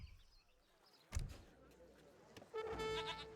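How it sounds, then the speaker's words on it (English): Goats bleat from a livestock pen in the Age of Empires III strategy game, a short tonal cry rising near the end of the clip above a bustle of game effects, with a soft thud partway through. "I like the livestock pen. He's just constantly getting goats from there."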